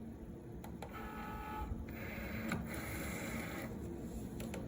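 A printer runs nearby while printing a card for a Cricut anniversary card project, with a steady mechanical whir, rhythmic clicks and feed sounds in short sections.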